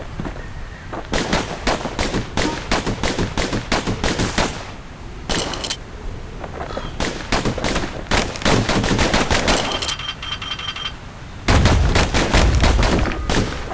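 Twin slinger pistols in Bastion fire rapid, dense volleys of crisp shots in long bursts with short pauses between, loud and close, with a heavier blast near the end.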